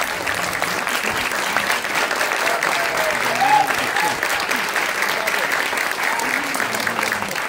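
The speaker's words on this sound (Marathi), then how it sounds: "जोरदार टाळ्या श्री देवी माऊली दशावतार मंडळींसाठी" Loud, steady applause from a large audience fills the whole stretch, honouring the Shri Devi Mauli Dashavatar troupe of traditional Konkan Dashavatar theatre at a film trailer launch, with a faint murmur of voices underneath.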